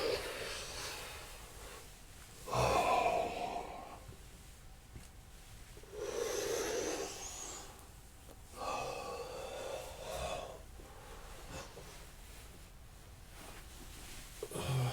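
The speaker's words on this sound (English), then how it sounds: "Breathing deeply." During a yoga session, deep breaths are drawn and released through the nose and mouth: about four slow, airy inhales and exhales spaced several seconds apart. They are close and soft, with quiet stillness between them.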